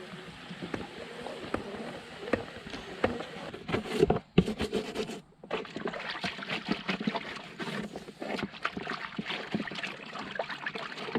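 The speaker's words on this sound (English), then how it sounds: "to fill the water buckets." Water running into horse water buckets at a stable, a continuous splashing trickle with a brief break partway through, fairly close and moderately quiet, with no talking.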